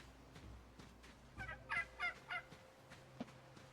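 Turkeys gobble at a breeder farm in the survival game Soulmask, several bursts of warbling gobbles following one another at a moderate distance over a low ambient hum.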